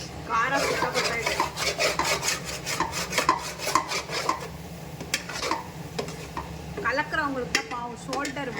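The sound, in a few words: stirring egg semiya in a pot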